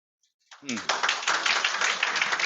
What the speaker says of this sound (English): You guys definitely deserve a round of applause compared to other batches you guys have done.